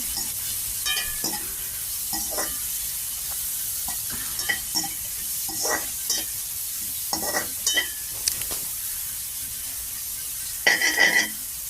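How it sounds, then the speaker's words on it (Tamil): Chopped leeks are stir-fried in a pan for egg noodles, a soft steady sizzle broken by repeated scraping and clattering strokes of a spatula, with a louder burst of stirring near the end and no talking. "சேர்த்துட்டு ஒருக்கா நல்லா மிக்ஸ் பண்ணி விடுறேன்"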